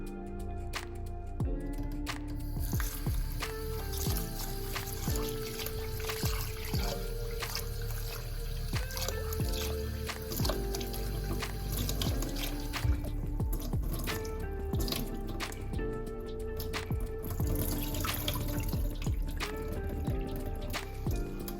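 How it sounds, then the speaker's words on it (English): Rice is washed by hand in a bowl of water, with irregular drips, sloshes and trickles up close and no talk, over a steady background. "obviously put it in a bowl and wash it"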